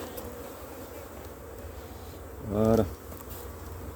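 Honeybees hum steadily around an open hive as the edges are smoked during a honey flow, a soft continuous drone with no breaks, while one brief spoken word rises over it near the end.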